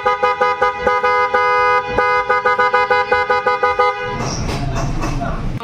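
A PIAA horn wired onto a Honda Click scooter sounds in a quick series of short, loud toots, some clipped and some held, then gives way to a rougher motor and handling noise near the end.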